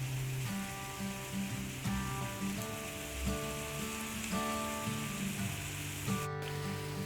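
Pumpkin kaka, a traditional Gilan pastry, fries in a pan with a steady, close sizzle that runs throughout, partly under tonal background music.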